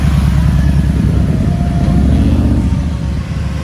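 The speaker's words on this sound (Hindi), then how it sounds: "गाइस बाइक देखिए।" A motorcycle engine gives a loud, steady rumble close by that runs unbroken through the whole stretch and eases slightly near the end.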